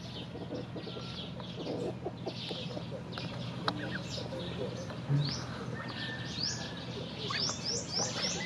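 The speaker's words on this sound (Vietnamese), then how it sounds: "Đó là con vịt mái nha các bạn." Ducks calling in a farmyard, with repeated quacks and clucks spread through the scene over steady background noise. Chirping birds can be heard alongside them.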